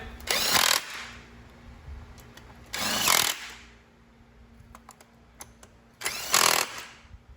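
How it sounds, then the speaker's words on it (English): A power tool spins bolts down with a 10mm socket on a Fiat 500 Abarth during an atmospheric valve install, in three short, loud whirring bursts separated by quiet shop background. "Tighten them down with a 10mm socket."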